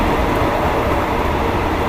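A metre-gauge train in Thailand runs fast, giving a loud, continuous rumbling roar of wheels and carriage heard from on board.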